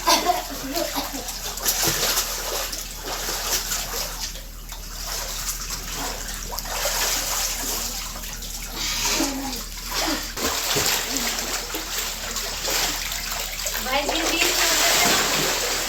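Water splashes and sloshes as a child's bathtub fills, a continuous watery wash with irregular splatters, heard close under someone speaking at intervals.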